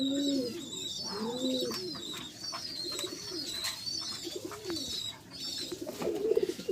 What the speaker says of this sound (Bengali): এখানে হচ্ছে বেশ কিছু কবুতর আছে। এখানে এগুলো হচ্ছে সব রানিং কবুতর।